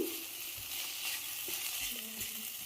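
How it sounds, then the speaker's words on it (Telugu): Ingredients for a mint chutney deep frying in a pan over low gas, giving a steady, close crackling sizzle that continues without a break. "కొంచెం డీప్గా ఫ్రై చేయాలండి, అప్పుడే టేస్ట్ బాగా వస్తుంది."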